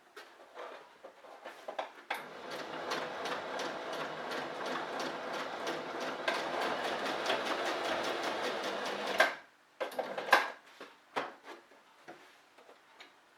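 A sewing machine stitching a zigzag on fabric, a fast, even mechanical ticking run that stops abruptly, followed by a few scattered clicks and knocks, close by.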